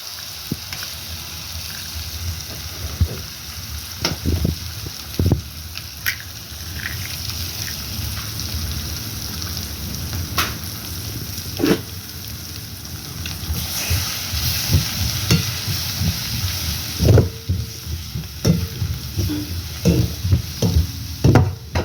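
Two eggs go into a pan of prawn puttu and fry with a soft sizzle and hiss, broken by scattered clinks and scrapes of stirring that grow busier toward the end.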